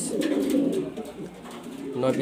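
Several pigeons in a sale loft in Mirpur, Dhaka, among them German Beauty Homer, Andalusian and Spangle birds, coo in low, steady, overlapping murmurs nearby, with a voice talking over them.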